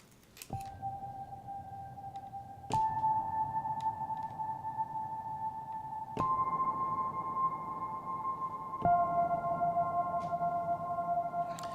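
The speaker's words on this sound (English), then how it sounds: "You can create a sonar patch very, very, very quickly" A synthesized sonar-like tone holds steady, stepping to a new pitch every few seconds, with a reverberant wash around each note and no voices.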